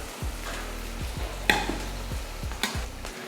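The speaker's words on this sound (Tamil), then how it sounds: "இது நல்லா வதங்கிட்டு இருக்கட்டும்" Soft sizzling in a frying pan as ingredients for palak paneer sauté, with a few scraping stirs of a spoon, steady and close, with no voices.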